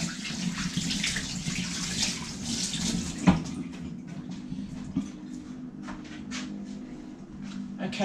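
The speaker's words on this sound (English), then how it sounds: "wash my hands, of course." Hands being washed under a running kitchen tap while cooking a hearty winter meal, a steady close splashing stream with small clinks and drips, and a brief knock partway through.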